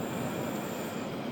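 Steady rolling hum of a train riding along rails in Switzerland, a continuous even rumble with faint high-pitched wheel tones, heard from inside at moderate volume.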